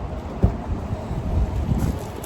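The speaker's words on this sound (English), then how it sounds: "the wind is definitely picking up" Wind buffets the microphone in low, rumbling gusts, with a brief thump partway through and no voices.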